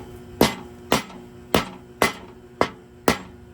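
Hammer taps seat a John Deere mower deck bearing onto its spindle, six sharp metallic strikes at a slow, steady pace, close and clear, with no talk.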